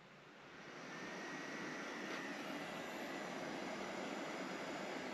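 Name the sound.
two car seat ventilation blowers running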